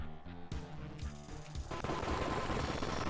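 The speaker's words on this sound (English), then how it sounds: "we're basically going to fire the space station's laser into the shields that just activated" The space station's laser in System Shock fires into freshly activated shields, heard as a dense run of rapid gunfire-like blasts that builds into a loud, continuous roar with no talk over it.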